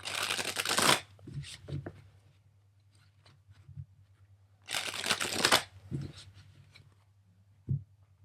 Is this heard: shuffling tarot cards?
yes